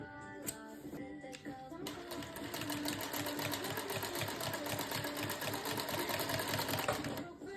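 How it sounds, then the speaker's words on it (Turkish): Sewing machine stitching pieces of a cotton cord bag: a brief stop-start opening, then a steady, close, continuous mechanical whir of rapid needle strokes. "İkinci parçamı da dikiyorum hemen"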